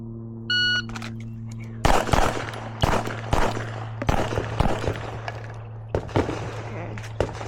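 Pistol fire during a USPSA transitions drill, opening with a start beep and then rapid loud shots in quick bursts and pairs, ringing outdoors over a steady low hum.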